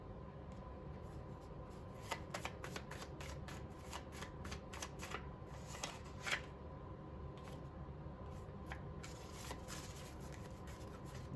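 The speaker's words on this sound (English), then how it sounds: "It's hard to shuffle them because they all stick together." Tarot cards being shuffled by hand, with quiet repeated riffling and sliding strokes at close range over a low steady room hiss and no talk.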